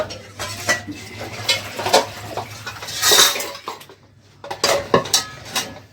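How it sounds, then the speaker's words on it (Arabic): Cooking pots being washed in a home kitchen, with close, irregular clanks and knocks of metal pans and utensils, bursts of splashing scrubbing, and a short quieter gap before more clattering. "اغسل الحله دي، الحله ديت، واغسل الحله ديت"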